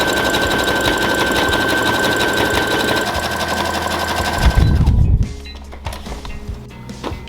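An electric sewing machine stitches down a pro wrestling kick pad, running loud and steady with a fast mechanical chatter, then stops, leaving soft handling noises of the fabric close by.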